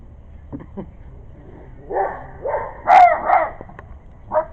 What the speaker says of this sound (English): now our neighbor's dog is going to start barking at me because they let him out